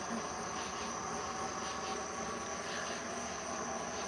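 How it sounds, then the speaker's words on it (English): A dense, steady chorus of night frogs and insects trills continuously over the constant hum of an air conditioner, with no voices. "you can hear the frogs"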